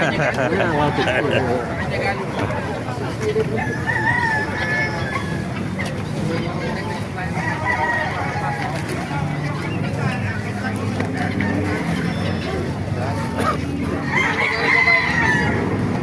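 Roosters crow and chickens cluck among poultry for sale at the Baliuag market in Bulacan. Several drawn-out crows ring out over a constant bustle of chatter and people talking nearby.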